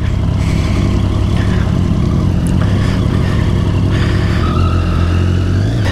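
A Triumph Street Triple 675 with its inline three-cylinder engine runs on a hill road, a loud, steady engine drone with wind rush and slight shifts in pitch, close to the rider and without talk.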